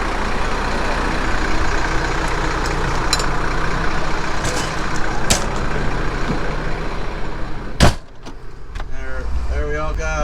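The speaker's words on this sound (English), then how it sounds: "That's Jerry. And his big diesel pusher." A big diesel pusher motorhome drives along in a caravan: a continuous loud engine and road rumble fills the clip, with a sharp knock near the end and a voice speaking briefly over the noise.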